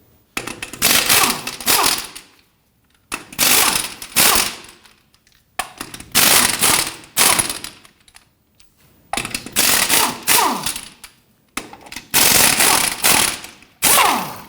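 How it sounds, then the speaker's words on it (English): On a 2007-2017 Jeep Patriot, an impact wrench loosens and removes the 19 mm front wheel lug nuts, firing about six loud rattling bursts of one to two seconds each, separated by short pauses. "Let's go ahead and loosen and remove our lug nuts."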